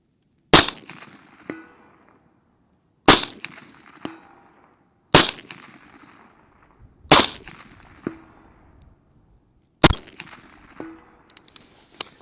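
Five sharp, loud rifle shots from a BCM short-barreled rifle with an 11.5-inch barrel fired at targets about 250 yards away, evenly spaced a couple of seconds apart, each followed by a faint distant ring of steel and short echo.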